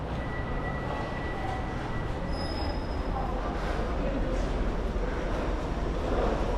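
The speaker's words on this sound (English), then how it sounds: "That's where I just come in on the train, Trans-Pennine." A Trans-Pennine train pulls into an airport station, its wheels squealing steadily against the rails over a continuous low rumble, loud and close throughout with no talk.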